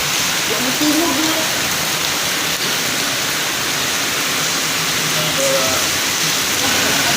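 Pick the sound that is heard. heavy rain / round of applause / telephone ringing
heavy rain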